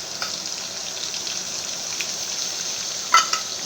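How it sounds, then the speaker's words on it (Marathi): Cumin seeds and garlic crackle faintly in hot oil in a home kitchen, a soft steady sizzle broken by a few sharper pops near the end, with no talk. "इकडे ठुलं तेल मैत्रिणी, जिरे टाकले, थोडा लसूण टाकला, चांगला कडकडू दिला"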